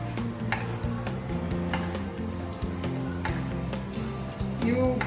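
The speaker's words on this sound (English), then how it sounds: "Because it is shallow fry, you just keep putting up the ghee on the upper part" Vegetable burger patties shallow frying in ghee in a pan, a continuous close sizzle broken by repeated scraping and clinking of a utensil.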